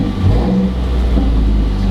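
A Mazdaspeed 3 engine runs just after an oil change, a steady close mid-pitched engine hum with a slight rev and no talking.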